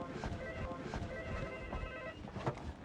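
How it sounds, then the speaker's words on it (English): A telephone rings faintly in a busy hospital setting, its thin electronic tone barely rising above a dense background murmur throughout. "I need to get that phone"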